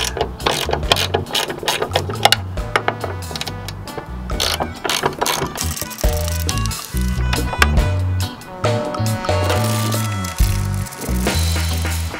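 Close, loud ratcheting from a socket wrench working 10mm bolts off a BMW E30 trunk lid, in repeated bursts of rapid clicks broken by short pauses and metallic handling noises.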